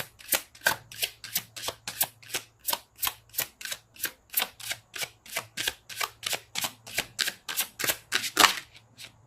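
Tarot cards being shuffled, an even run of crisp riffling bursts, about two or three per second, close and clear, with a faint low hum underneath and no speech.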